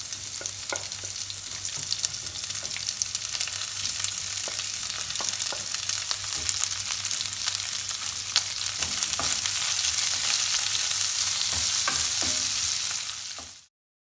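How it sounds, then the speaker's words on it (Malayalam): Onion and spices sautéed in a kadai with mustard seeds for Kerala-style crab curry, a steady close sizzle with occasional stirring scrapes, no voices, ending abruptly. "തക്കാളി ഒഴികെ ബാക്കി എല്ലാ സാധനങ്ങളും ഇട്ട് നന്നായിട്ട് വഴറ്റി എടുക്കുക"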